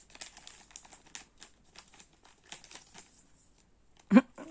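Scissors snip into a plastic candy packet with a run of close, crisp crinkles and soft cuts, ending in a louder rustle as the packet opens.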